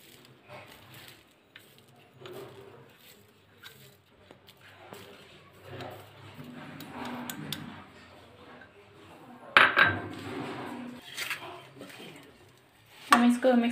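A spoon mixes spice masala into seeded amla pickle, clinking and scraping against a bowl in sporadic bursts, with a couple of louder knocks, under soft talking.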